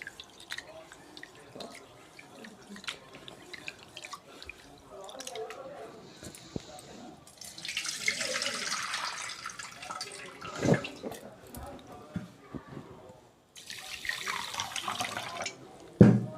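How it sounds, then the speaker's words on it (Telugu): Millets are washed by hand in water in a home kitchen, with splashing, dripping and squishy swirling of the grains. The sound comes in uneven bursts that grow louder toward the end and is heard close up. "వీటిని శుభ్రంగా కడగాలి. ముందు 3 టైమ్స్ శుభ్రంగా కడుక్కోవాలండి."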